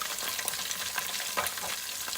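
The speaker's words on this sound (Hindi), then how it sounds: "ये मैं हरी मिर्चें भी इसके अंदर अभी डाल दूँगी" Green chillies dropped into a hot pan of oil while cooking rice, giving a steady crackling sizzle with small bursts of spitting, close and moderately loud, no talking.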